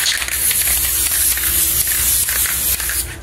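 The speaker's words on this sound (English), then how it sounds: "So what I'm gonna do is just spray a layer of this right now" Continuous close aerosol spray of a release layer onto a prosthetic mould, a loud steady hiss with slight pulsing and a few brief breaks.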